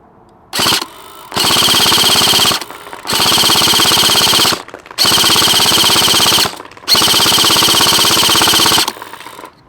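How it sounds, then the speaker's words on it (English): A Cybergun FN Herstal M249 Para Featherweight airsoft gun fires full auto from a prone position, four sustained rattling bursts of about one to two seconds each with short pauses between, close and loud. "let's get down on this thing and prone fire it"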